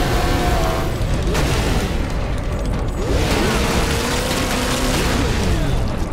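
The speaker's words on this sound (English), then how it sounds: "The orcs have managed to power that cannon." Cannon fire and heavy mechanical booms in a Warhammer 40k Space Marine video game, with orcs powering the cannon; a dense, continuous wash of loud battle noise and blasts fills the scene without speech.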